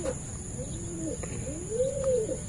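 Racing pigeons in a loft, the stock birds, cooing softly: several low, rounded, repeated coos overlap, one rising and falling more clearly near the end, over a faint background hum.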